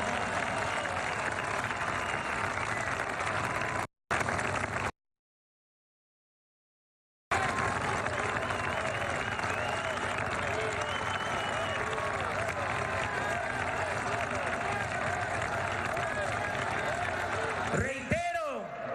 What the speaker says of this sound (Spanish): Aquí pido que les brindemos un fuerte aplauso a las Fuerzas Armadas de